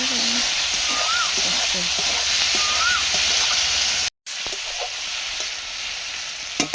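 Lote fish frying in a pan: loud, steady close sizzle of oil with light stirring taps and a faint chirping tone, cut by a brief dropout before the hiss resumes slightly softer, no speech.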